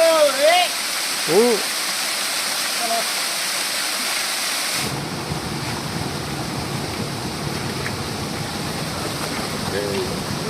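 Steady broadband rush of a waterfall in a little-visited rocky hill area, a voice speaking briefly over the constant roar near the start before the water sound thickens and continues alone.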